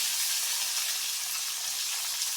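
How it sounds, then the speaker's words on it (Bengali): Stuffed pithe rice cakes frying in mustard oil on a stove, a loud, continuous close-up sizzle and crackle with no talk. "পিঠে ভাজা চলছে"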